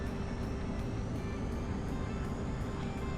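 A fixed-wing aircraft takes off in the Nuclear Option combat flight game, a steady loud engine roar and rushing noise holding throughout with a faint rhythmic pulsing, with no voices over it.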